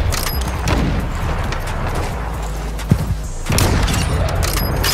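Sniper rifle shots ring out in a shooter video game, with a sharp crack near the three-second mark amid dense game noise, booming ambience and a louder burst of action toward the end.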